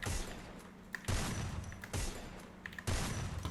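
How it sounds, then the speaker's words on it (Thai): Bursts of automatic gunfire from a shooting video game, several long volleys separated by brief pauses, loud and close with a mechanical clatter between them. "เดี๋ยวลองยิงตรงนี้บ้างดิ"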